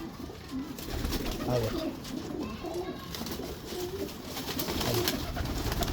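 Pigeons coo softly and repeatedly close by in a loft or coop, a steady low murmur running throughout while someone speaks briefly over them.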